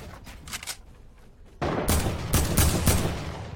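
Video game gunfire erupts partway through, a few quiet shots giving way to loud, rapid bursts of automatic fire that dominate the rest, with no voices heard.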